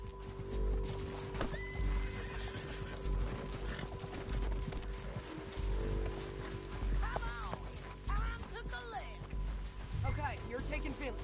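Horses in the video game Red Dead Redemption 2 give several whinnies and neighs over rhythmic clip-clopping hooves, with voices talking underneath at a low overall level.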